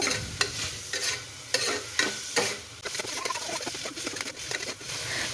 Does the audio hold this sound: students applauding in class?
no